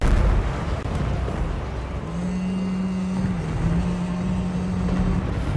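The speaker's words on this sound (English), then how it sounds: "Look at those rains of explosions, ladies and gents." Dense, rumbling explosions in the video game Total War: Warhammer II roll on continuously in a booming wash, with a steady engine-like drone rising underneath partway through.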